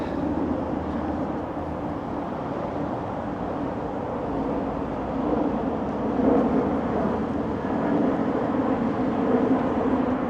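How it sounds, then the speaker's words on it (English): Broadband traffic roar along Rexdale Boulevard in northern Etobicoke, Toronto, with aircraft passing low overhead every minute; a steady loud rumble that swells slightly toward the end, with no talk over it. "Planes just every minute."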